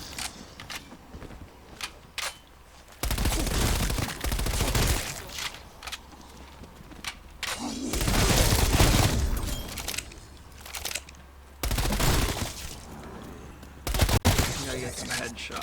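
Bursts of MP5 submachine gun fire in the video game Call of Duty Cold War Zombies come in several separate volleys, loud against quieter stretches with sharp single cracks between them.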